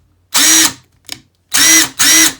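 Bauer cordless impact wrench from Harbor Freight, run unloaded in three loud, close bursts of about a third of a second each, with a brief faint click between the first and second, and no talk.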